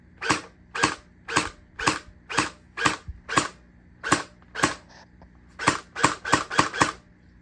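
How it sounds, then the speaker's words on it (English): A Lightning Blaster Pro toy blaster fires in single-fire mode, sharp close snapping shots about once per half second, speeding into a quicker cluster near the end, with no talking. "So we'll go from safety to single fire."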